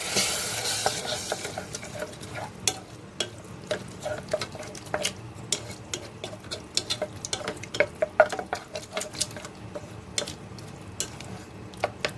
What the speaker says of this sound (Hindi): शलजम को भी इतना कुक करना है कि जो ऑयल है उसकी लेयर आ जाए ऊपर